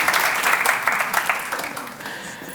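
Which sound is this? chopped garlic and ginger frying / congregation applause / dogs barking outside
congregation applause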